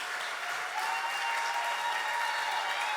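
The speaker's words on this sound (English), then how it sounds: "you have to keep clapping while she finds her way up here" Dense, sustained applause from an audience at a traditional music festival award ceremony, a steady wash of many hands clapping at even loudness from start to end.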